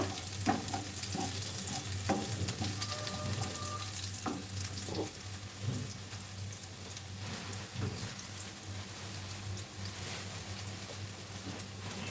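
Pitha rice cakes fry in hot oil with a steady, dense crackling sizzle that runs the whole time, scattered with small pops and spatters and a few faint utensil knocks, with no voices.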